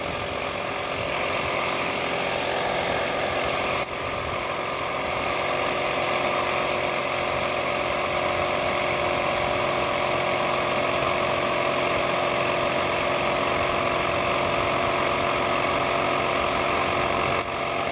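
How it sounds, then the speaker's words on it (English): A tiny 2-gallon air compressor runs steadily in the background of a tire plugging job, its motor producing a continuous droning hum with a few faint clicks, no talking. "What you hear in the back there is my compressor. It's a tiny 2-gallon one, but it works."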